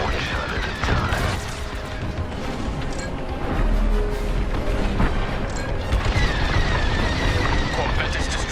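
Enemy corvette being blasted apart in Star Wars: Squadrons, a dense rumbling roar of explosions and crashing booms with a deep low surge midway, while voices talk over the din.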